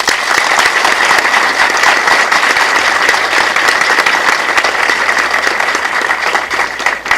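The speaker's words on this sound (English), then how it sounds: "You're clapping like North Koreans. That's how they clap, and I love the uniformity." Studio audience at a quiz show taping in Uyo, Akwa Ibom State, Nigeria, clapping together in a dense, steady, uniform burst that holds loud and even throughout with no voices over it.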